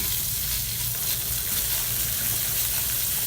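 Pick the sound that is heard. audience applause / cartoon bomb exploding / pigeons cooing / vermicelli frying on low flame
vermicelli frying on low flame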